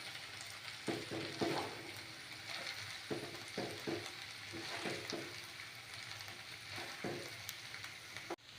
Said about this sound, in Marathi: आता हे व्यवस्थित असं मिक्स करून घेऊयात